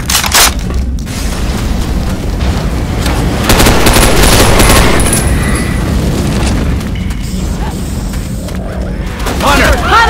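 Gunfire and explosions fill a Left 4 Dead 2 zombie shooter match with loud, continuous booming and rapid shots, while a character voice calls out briefly near the end.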